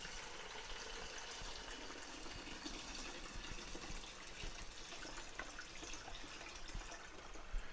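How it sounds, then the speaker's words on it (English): Cold water pours steadily into the tank of a 12-cup coffee maker, a continuous soft gushing and splashing that holds level throughout, close by and fairly quiet with no talking. "I've got cold water in here. All we're going to do is fill the tank."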